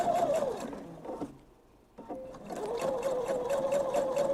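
A sewing machine runs a straight seam on a thread catcher project, its steady motor hum and needle chatter stopping briefly midway before starting up again and continuing at an even pace.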